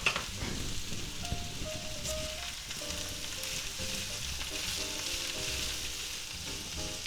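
Chopped ham and peppers fry in a pan with a steady, close crackling sizzle, dense and even throughout with faint stirring scrapes underneath.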